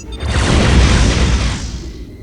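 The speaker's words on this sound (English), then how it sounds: "A purple plasma torpedo." A purple plasma torpedo explodes in the Star Trek Online space game, a loud, heavy boom that swells at once and rolls on in a dense roar before fading away.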